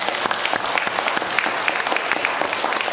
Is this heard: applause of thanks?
yes